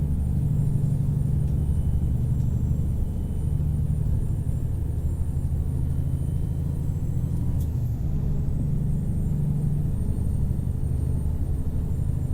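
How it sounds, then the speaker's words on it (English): In the American Truck Simulator video game, a low-horsepower Kenworth T800 dump truck's engine drones steadily while it climbs a hill, producing a loud, continuous low rumble with no speech. "Definitely a challenge with these lower horsepower engines."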